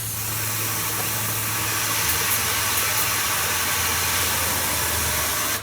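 Water squirted through the cooling system of a 1926 Oakland car, flushing out of the engine block: a steady, loud rushing hiss over a low hum that runs unbroken for several seconds before cutting off at the end.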